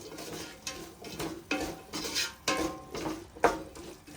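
A spoon scrapes and clinks against a pot while paneer pulao ingredients, including potato pieces, are stirred together. The strokes come in a steady rhythm of about one per second, close and fairly quiet, with no voices.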